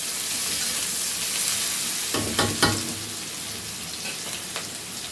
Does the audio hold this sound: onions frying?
yes